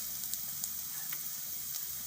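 Cumin seeds sizzling in hot oil with carrots, a steady close crackling fry with small pops scattered throughout.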